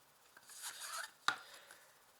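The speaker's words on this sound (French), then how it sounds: "je vous tourne tout de suite la carte" A single tarot card flipped over on a table gives one sharp, close papery snap, set among soft rustles and slides of the deck before and after it.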